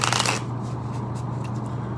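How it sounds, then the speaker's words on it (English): Tarot cards being shuffled by hand, a quick crisp riffling burst up close that fades into soft rustle. "Two more shuffles."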